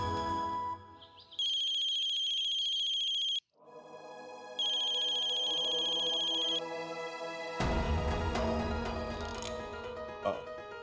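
A telephone rings in bursts of electronic ringtone, pausing between rings, before a louder stretch of music-like ringing takes over in an indoor scene.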